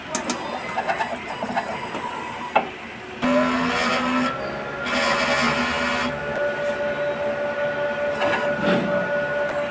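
A printer whirs and grinds mechanically through a head cleaning cycle, with motor hums, clicks and a shifting tonal whine lasting several seconds.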